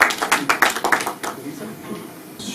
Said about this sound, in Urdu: بھرپور تالیوں میں